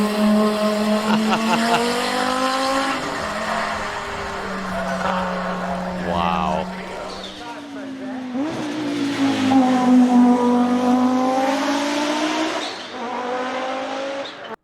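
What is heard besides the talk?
Audi 90 Quattro IMSA GTO race car, turbocharged inline-five engine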